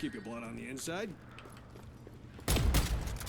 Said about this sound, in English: now we're still just shooting at the head as fast as possible